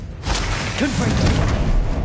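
A Confringo spell cast in Hogwarts Legacy makes a loud, whooshing burst with a brief swept tone, followed by a sustained rumbling blast that runs to the end.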